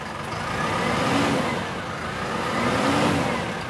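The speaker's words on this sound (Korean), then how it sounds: "엔진은 들려드리도록 하겠습니다" The diesel engine of a 2021 Hyundai All New Mighty 2.5-ton cargo truck with about 8,000 km revs up and eases off twice, a steady mid-pitched rumble swelling and falling with no talking.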